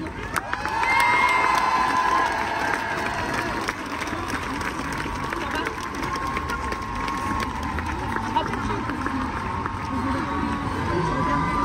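Large outdoor crowd at a rally in support of Gisèle Pélicot and victims of rape applauds and cheers, a dense sustained roar with shouts and whoops, while voices carry over the noise.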